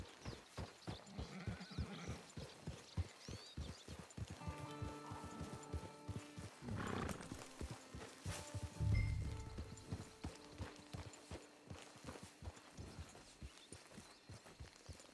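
Horse hooves clip-clop steadily on the ground in the Red Dead Redemption 2 online game, a regular walking rhythm heard close with game ambience and a brief louder thud midway.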